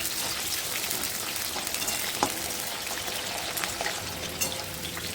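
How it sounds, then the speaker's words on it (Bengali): Moringa drumsticks frying lightly in a pan for a Bengali shukto, a steady close hiss of oil with occasional small pops, without any voices. "এরপর আমি সজনের ডাঁটাগুলো ভেজে নেবো হালকা করে।"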